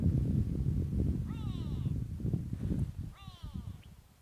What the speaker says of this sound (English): Some grey go-away birds further up ahead here that are, well, they're giving the call